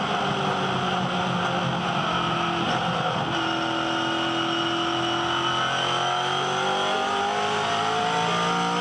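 V8 Supercar race cars scream past at Phillip Island, loud high-revving engines whining and shifting pitch as they pass, with a sustained roar of several cars on track.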